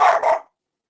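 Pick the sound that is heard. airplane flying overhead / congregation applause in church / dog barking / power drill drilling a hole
dog barking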